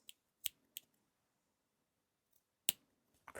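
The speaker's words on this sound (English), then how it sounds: "let's cut some notches" Scissors snip notches into a curved fabric seam allowance on a blouse, a few sharp, quiet clicks spaced apart in a still room.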